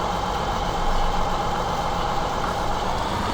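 A combine harvester in Farming Simulator 2017 runs with its header turning, giving a steady, loud, low engine drone with a constant whine and no change in pitch.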